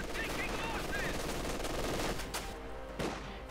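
MG42 machine gun in the Company of Heroes 2 real-time strategy game on an icy battlefield, firing dense sustained bursts amid other battle noise, with a couple of sharper blasts near the end.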